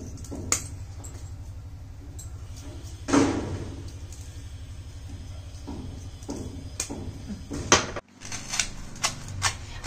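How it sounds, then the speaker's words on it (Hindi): A knife cuts through crispy toasted bread pizza topped with chili flakes, making sparse, sharp crunching cracks and clicks at close range over a quiet background, with one louder crunch partway through. "आपको आवाज सुनाई दे रहा होगा ये जब कट हो रहा है तो कितना क्रिस्पीनेस का आवाज आ रहा है इसमें।"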